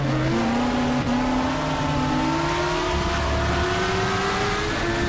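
Race car engine in the rFactor racing game revving hard and shifting up into third gear, a loud, steady whine climbing in pitch with a brief dip at the shift, alone with no talking.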